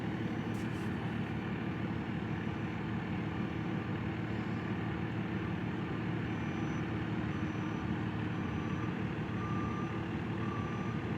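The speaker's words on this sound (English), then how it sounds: "All the beeping that goes with the backing and the backing and the beeping and the flashing." A claw truck backing up during a cleanup sounds its reversing alarm in a steady series of regular beeps over a constant engine rumble, heard from a moderate distance with no talk.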